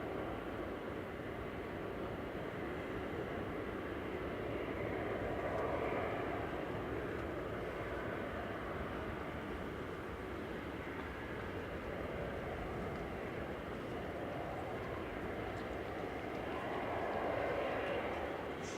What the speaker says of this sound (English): This is going back to Copenhagen, operated by CityJet EIFPT CRJ 900 flight 540.